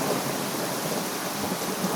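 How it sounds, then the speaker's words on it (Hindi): Heavy rain pours down on a flooding jungle in a cartoon, a dense, loud, continuous hiss with a low thunder rumble beneath it. "बारिश के कारण जंगल में पानी भरने लगा।"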